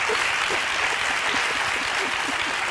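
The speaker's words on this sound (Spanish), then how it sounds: "Aplaudiment pel Manu, sisplau." Sustained audience applause for a guest on a Spanish talk show, dense, even clapping from a full studio crowd, continuous and fairly loud with no speech over it.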